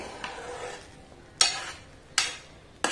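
Spoon stirring semolina in oil in a pan for kesari, with a soft scraping hiss and three sharp metallic scrapes against the pan at steady intervals, close, no talking.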